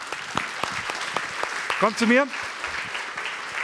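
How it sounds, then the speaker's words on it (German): A group applauds mentors at a Jugend hackt youth hackathon in Munich, scattered claps ringing through the room under steady crowd noise, while a voice speaks briefly over them midway. "Großer Applaus für euch."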